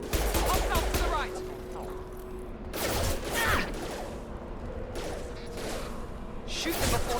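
Gunfire in the sci-fi shooter Mass Effect 2 on Insanity difficulty rattles in dense continuous bursts, with brief gaps and a swell of fire, layered over game effects and a talking voice.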